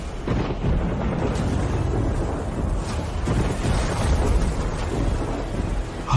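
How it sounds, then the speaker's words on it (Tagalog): A stormy downpour rages at sea: a steady, dense roar of rain and wind with low rumbling thunder underneath, heavy and unbroken throughout. "Ang bagyo ni Poseidon."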